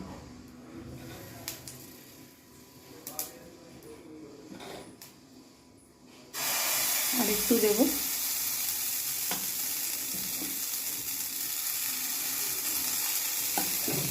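Rice batter for sorucakli pitha hits a hot pan and sizzles loudly and steadily, after a quieter stretch of faint clinks and handling sounds. A brief soft spoken phrase comes just before the sizzle.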